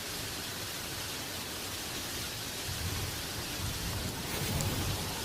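Heavy cartoon rain pours in a dense, steady hiss, with low thunder rumbles swelling toward the end; no voices.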